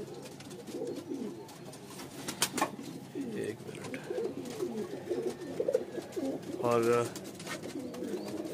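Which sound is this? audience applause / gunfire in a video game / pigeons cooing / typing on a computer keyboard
pigeons cooing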